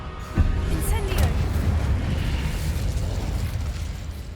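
The Incendio fire spell cast in the video game Hogwarts Legacy, a sudden fiery burst followed by a second whoosh, settling into a long roaring rumble that slowly fades.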